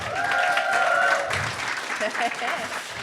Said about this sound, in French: Mélodie Noël Rousseau, qu'on applaudit, s'il vous plaît.